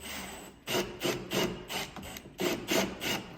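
Hand file rasping excess plastic off the back side of a mirror mount hole, in about eight rhythmic strokes, close and fairly loud, with no talking.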